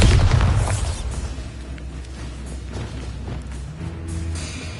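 Bombarda explosion spell in Hogwarts Legacy, a loud booming blast that bursts at the start and rolls off into a rumbling decay, followed by softer crackling game effects.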